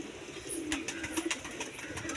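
Pigeon cooing inside a backyard cage where a chick has just hatched, soft repeated coos close by over a steady faint background hiss, with no talking.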